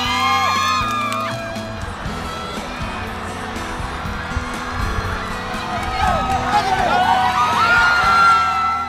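A crowd of students roars and cheers from the stands at a high school sports event, a sustained noisy swell that grows louder toward the end, with voices and shouts mixed throughout.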